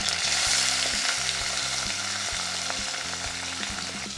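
Crushed garlic, curry leaves and onion hitting hot oil with mustard seeds, cumin and asafoetida for a tempering, a dense close sizzle and crackle with light stirring, steady throughout.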